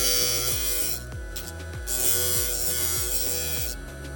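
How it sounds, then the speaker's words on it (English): A small electric glass grinder shapes the top of a glass mosaic tooth. Its steady, close buzzing whine dips briefly in pitch several times as the piece is pressed against the bit, and no one speaks. "I think I'm going to use the grinder from here so I don't chip it again."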